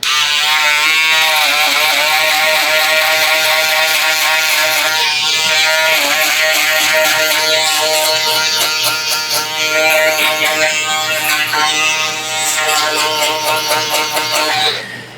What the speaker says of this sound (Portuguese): Agora a nossa shaver a gente vai passar só nessa parte clara do degradê e também já deixar bem marcado esse acabamento.